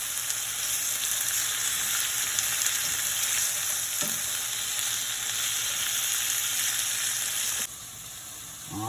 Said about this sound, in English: Give it some nice saute.